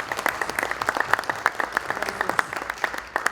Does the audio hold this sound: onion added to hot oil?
no